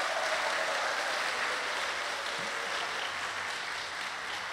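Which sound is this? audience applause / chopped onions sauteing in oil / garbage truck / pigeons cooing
audience applause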